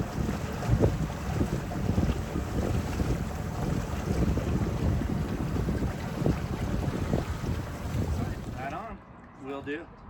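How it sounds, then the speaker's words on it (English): A large Coast Guard ship's engine rumbles steadily as it passes, with heavy wind buffeting and water wash, before the noise drops away near the end. "this was a big Coast Guard ship going past us, and there it is"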